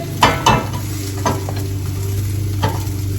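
An omelet sizzles steadily in a hot frying pan right after being flipped, a continuous close crackle with a few soft clinks and taps of the pan early on.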